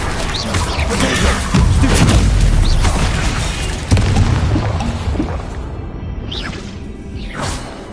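A Bombarda spell blast in a Harry Potter video game, a loud booming burst with whooshing and crashing debris, followed by fainter swishes as the noise settles.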